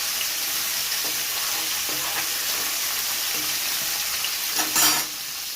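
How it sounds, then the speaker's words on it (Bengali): Pabda fish frying a few at a time in hot oil in a wok, giving a steady, close sizzle with faint stirring clinks and a brief louder spatter near the end. "তাই পাবদা মাছগুলো একটু ভেজে নেব, অল্প অল্প করে ভাজবো"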